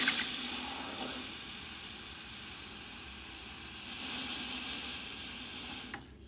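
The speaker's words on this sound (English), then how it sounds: "we gotta quench it in the water" Hot freshly cast silver bar plunged into water gives a steady, loud steam hiss with a bubbling sizzle that swells slightly toward the end and then cuts off, heard alone.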